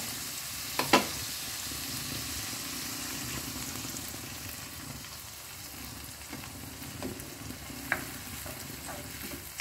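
Steady frying sizzle from bell pepper in a pan, with occasional stirring scrapes and small clinks, close and continuous.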